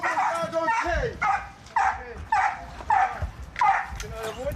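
A police dog tracking a suspect near a fence barks repeatedly, six or so sharp, evenly spaced barks at close range with faint whimpers between them.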